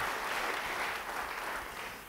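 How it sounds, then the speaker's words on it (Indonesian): A church congregation claps together during a sermon, a brief, dense burst of applause that holds steady, then starts to fade at the end. "Beri tepuk tangan bagi dia."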